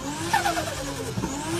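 A Nissan GT-R R35 engine revs in a short, close burst, its whine sweeping up and down over a second and a half.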